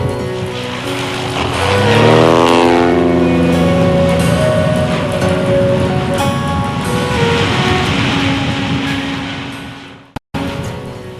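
A banner-towing propeller plane flies past, its engine drone rising and sweeping down in pitch with a loud close roar that settles into a steady buzz, then cuts off abruptly near the end.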